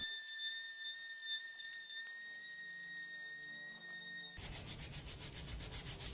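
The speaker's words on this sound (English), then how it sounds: "I just sand it to smooth out the wood and flatten all the spilt paint on it" Sanding a wooden secretary desk to smooth the wood and flatten spilled paint: a steady high whistling tone runs at first, then close, loud rhythmic rubbing strokes of sandpaper begin near the end, with no speech.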